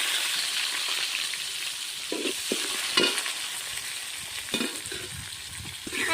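Onions and tomatoes sizzle in a hot pan while being stirred for a Tamil kari kulambu curry, a steady frying hiss broken by several scraping spoon strokes, close and without talk.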